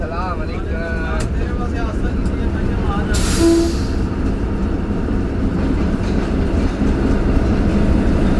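Thal Express and other trains at Rawalpindi station platform number 4, a steady loud rumble of rolling rail cars with a brief hiss and tonal squeal, as people talk nearby throughout.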